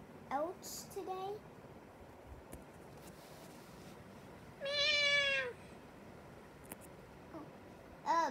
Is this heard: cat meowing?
yes